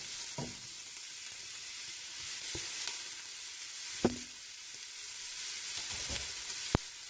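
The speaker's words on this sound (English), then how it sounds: "as soon as we put the avocado oil in, we're going to dump in the onion" Onion dumped into hot avocado oil in a pan for beef taco filling sizzles in a continuous, even hiss, broken by a few sharp clicks and taps of a utensil against the pan, close-up and free of talk.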